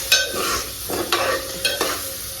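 Chillies and onions fry in a pan for poha, stirred in several close, distinct scraping sweeps over a continuous sizzle.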